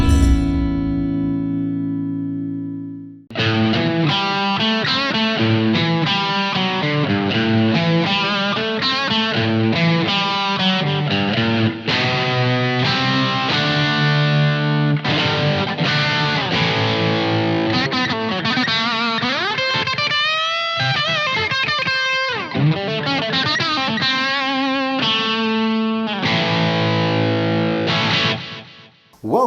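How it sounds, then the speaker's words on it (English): A guitar played through a Donner Arena 2000 multi-effects unit, leading in after about three seconds of sparse notes with dense, loud distorted chords and riffs, some bends, running continuously with no talking. "The sounds you heard were coming through the brand new Donner Arena 2000 multi-effects"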